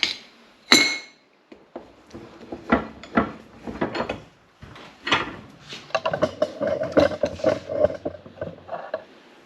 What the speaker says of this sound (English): And put it in the vise here.